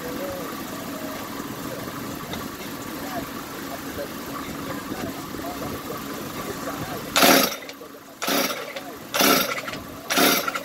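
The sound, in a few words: Stihl TS concrete saw engine trying to start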